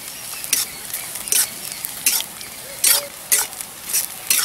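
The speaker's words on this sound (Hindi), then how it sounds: "प्याज को हम हल्का ब्राउन होने तक भून लेंगे।" Finely chopped onion fries in a pan toward light brown, a low steady sizzle punctuated by rhythmic bursts of spatula stirring and scraping, close and clear, with no voices.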